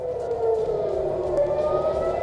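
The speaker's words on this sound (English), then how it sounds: "Sirens scream across cities." Air raid sirens wail over Israeli cities, a steady sustained tone droning at a distance without pause.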